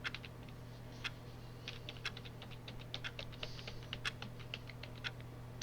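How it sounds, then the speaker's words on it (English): Computer keyboard keys pressed one after another, letter by letter, in a steady run of crisp, close clicks over a low constant hum, with no talking. "I will press every single letter on my keyboard other"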